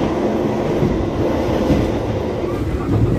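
A passenger train running nonstop from Semarang to Jakarta at full speed, up to 120 km/h, gives a loud, steady rumble and rattle of wheels on track, heard from inside a carriage.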